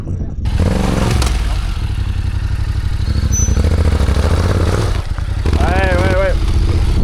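A Yamaha T7 motorcycle engine pulling away in first gear, revving steadily and loudly up close with a clattering, uneven note while voices talk over it.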